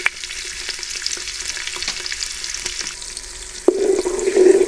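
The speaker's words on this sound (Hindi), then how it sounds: "ऑयल हमारा गर्म हो चुका है, इसमें प्याज शामिल कर देंगे" A medium onion drops into hot oil for white chickpea pulao, a steady close frying hiss with soft stirring ticks that jumps to a louder, crackling sizzle near the end, no voices.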